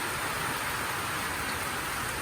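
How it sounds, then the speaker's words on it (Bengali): Heavy monsoon rain falls outside a house, a thick and constant hiss of downpour heard up close for a brief moment, with no talking. "বাইরে বেরিয়ে দেখছি প্রচুর পরিমাণে বৃষ্টি হচ্ছে"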